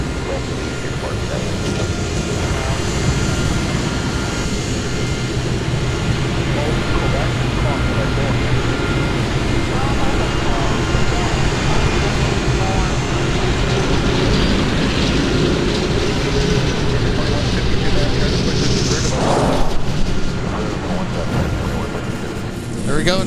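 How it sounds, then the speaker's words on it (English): A Delta Airbus A330-300 airliner touching down on the runway at Minneapolis–Saint Paul airport, a loud sustained jet roar heard from a distance, steady and broad, with a voice talking over it. "There we go, Delta 153 touching down with the A330-300"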